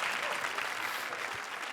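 Studio audience on a Hindi comedy show breaks into steady, dense applause, a continuous wash of many hands clapping at fairly even loudness throughout.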